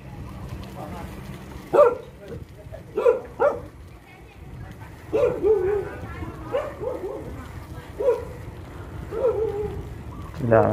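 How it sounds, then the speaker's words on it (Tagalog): Several dogs in a Thai neighbourhood bark in scattered, repeated bursts at moderate distance, with short gaps between volleys and a voice occasionally audible in the background. "Maraming aso."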